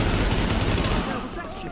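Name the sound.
M4 rifle gunfire, from video game The Division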